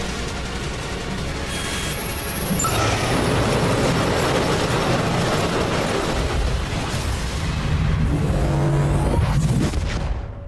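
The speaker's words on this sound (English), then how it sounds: "A high-speed train arrives" A loud, continuous rush of an animated high-speed train passing close by in a Subway Surfers cartoon, a roaring wash of wheel and wind noise that swells and then fades at the end.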